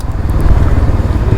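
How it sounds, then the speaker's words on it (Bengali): A superbike engine, close and loud, gives a deep throbbing idle-to-rev growl in a brief burst with no talking. "ফার্স্ট টাইম গাইস সুপার বাইকে বসেছি, আর একটু আওয়াজটা তোমাদের শোনাবো"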